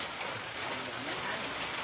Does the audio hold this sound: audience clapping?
no